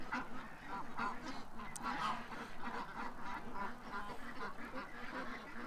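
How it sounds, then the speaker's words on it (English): A flock of ducks quacks and honks continuously while being shut in for the night, a busy overlapping chorus of nasal calls, fairly close but soft overall. "putting the ducks away."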